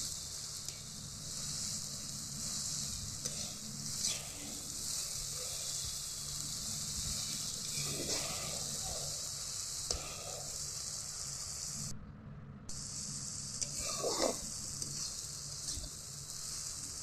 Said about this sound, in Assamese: কিন্তু ভালকৈ ভাজিছোঁ কচুখিনি।